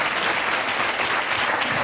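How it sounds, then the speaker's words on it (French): Studio audience on a French television talk show breaks into dense, sustained applause, a loud continuous roar of many hands with no voices standing out. "On peut encore l'applaudir."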